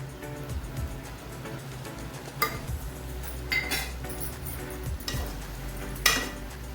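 Semolina roasting in ghee with cardamom powder for prasad sheera, stirred with a spoon in a pot, giving soft scraping strokes and several sharp metallic clinks of utensil against pan, close by and fairly quiet.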